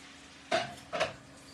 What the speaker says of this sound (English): And I'm gonna stir my sausages.